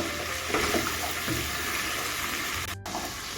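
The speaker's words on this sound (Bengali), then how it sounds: "আমি আলু ফুলকপি আর পেঁয়াজ কপিটা ভেজে নিব" Potato, cauliflower and spring onion fry in a pan over medium heat, a dense, close sizzle with faint scraping stirs, brief and without talk.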